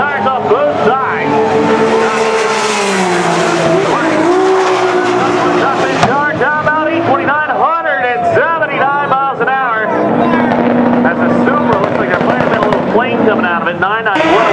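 A GMC Syclone drag racing at a World Cup event at MIR, its tires spinning at launch with a loud, continuous roar and rising and falling engine pitch, close and saturated, while a commentator talks over it.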